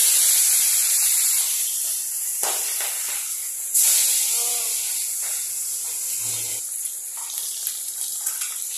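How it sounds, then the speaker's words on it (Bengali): Pabda fish are fried crisp in hot oil, giving a steady bright sizzle and hiss with sharper bursts of spitting as pieces go in, close and continuous, with faint low handling sounds beneath. "মাছগুলোকে ভেজে নিচ্ছি কড়া করে"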